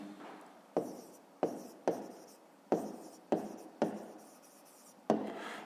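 Pen strokes scratch close on paper as a fifth-grade maths answer is written out by hand. About seven quiet strokes each start sharply and trail off, with no speech.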